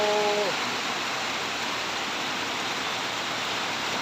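Heavy rain pours steadily at a home in Kok Tum, falling through the night and continuing all day, a dense, even hiss close by; a voice speaks briefly at the very start.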